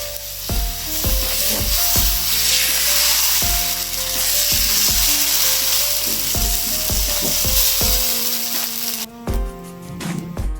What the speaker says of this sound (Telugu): మనం పెట్టుకున్న ప్యాన్ ఆల్రెడీ హీట్ అయిపోయింది ఇంకా మనం దోశ వేసుకోవడమే